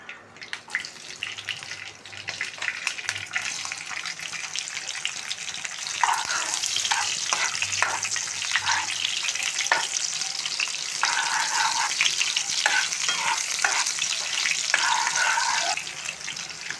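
Onions sizzle steadily in hot oil, the frying growing louder partway through, with occasional scraping and clinks of stirring.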